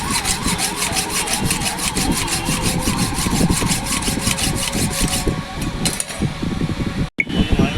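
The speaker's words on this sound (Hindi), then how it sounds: "3 बोल्ट हमने काट लिया है, चौथा बोल्ट काट रहे हैं।" A metal bolt on an air cooler fan is cut by hand, with steady rhythmic back-and-forth rasping strokes close up and a brief pause near the end.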